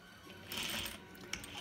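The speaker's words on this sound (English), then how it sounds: "I will back stitch right there" Sewing machine back stitching a small 5x7 fabric pouch, a quiet rapid mechanical whirr that rises for a short burst and eases off, with a faint tick near the end.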